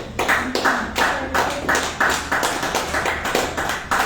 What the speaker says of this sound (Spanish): ¿Cuánto podemos darle palmas al Señor?